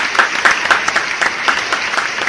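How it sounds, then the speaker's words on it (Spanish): A church congregation claps together in a loud, rhythmic burst of applause, close and steady with no voices over it. "Vamos a darle un aplauso a Dios."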